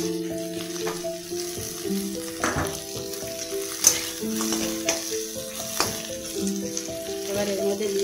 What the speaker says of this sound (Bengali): পেঁয়াজগুলো একটু ভেজে নেবো সামান্য